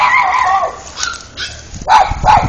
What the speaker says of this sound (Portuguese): Porque tem um cachorro passando ali na frente de casa.